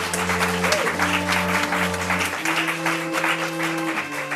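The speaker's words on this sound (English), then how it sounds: "We can give them a round of applause." A graduation audience applauds steadily in a large hall, dense continuous clapping over sustained low orchestral tones that fade out partway through.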